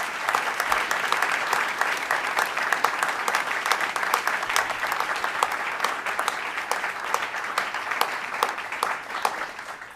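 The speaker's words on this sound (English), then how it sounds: "Let's give this team a round of applause." An audience at a NASA news conference on the New Horizons mission applauds steadily for the team, with dense, sustained clapping filling the whole stretch at even strength.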